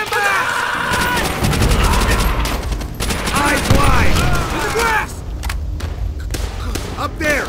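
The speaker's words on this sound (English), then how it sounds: "Sniper fire!" Sniper fire in the video game Call of Duty: World at War at the Battle of Shuri Castle, Okinawa 1945: loud, dense gunfire and mechanical clatter continuing throughout, with shouting voices over the battle.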